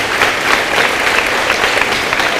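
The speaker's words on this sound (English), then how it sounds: "Can we give Ashley Binsley another round of applause?" An awards ceremony audience claps in steady, dense applause that stays at an even level throughout, with a faint murmur of crowd noise underneath.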